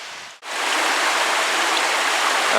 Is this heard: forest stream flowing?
yes